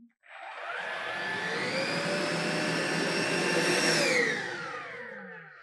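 An AEG QX9-1-ANIM handheld vacuum cleaner whirs up and runs with a steady high-pitched motor whine, slightly rising in pitch before easing off at the end.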